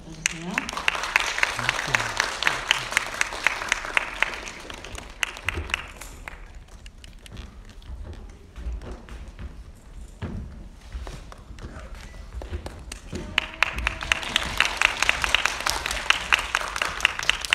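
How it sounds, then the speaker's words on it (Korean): Audience clapping at a film screening as the lead actors walk in, loud at the start, thinning to scattered claps in the middle, then swelling again toward the end, with voices in the room. "박수로 맞아주세요."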